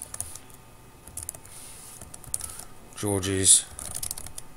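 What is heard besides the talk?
typing a description on a computer keyboard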